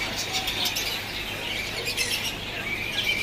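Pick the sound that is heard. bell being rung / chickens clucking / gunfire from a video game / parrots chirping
parrots chirping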